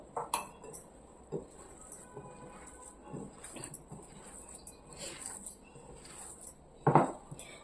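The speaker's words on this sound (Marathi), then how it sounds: "आता एकजीव करून घेऊ आपण" A spoon works soya cutlet mixture together with rice flour in a bowl, making scattered close clinks and scrapes against the dish in an irregular rhythm, with a sharper clatter near the end.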